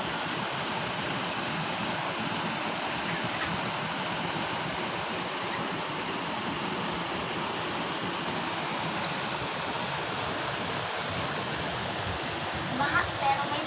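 Heavy rain with rushing, torrential water fills the scene as a steady, loud broadband wash that holds evenly throughout, with a couple of faint brief clicks near the middle and end.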